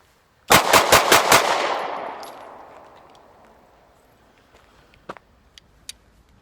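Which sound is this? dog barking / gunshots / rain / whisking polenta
gunshots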